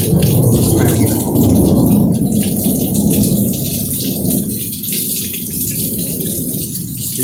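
A thunderstorm with steady, loud rain pouring down throughout, broad wash of rainfall with low thunder rumbling underneath, slightly easing toward the end.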